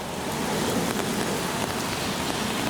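Steady rain falls in the woods at Saddler's Woods where goats graze, a constant soft hiss with no voices.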